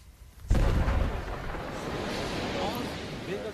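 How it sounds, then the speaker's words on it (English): Two sticks of explosive go off in a big explosion, a sudden loud boom followed by a long rumbling roar that stays heavy and sustained, with a voice partly present. "Big explosion from 2 sticks,"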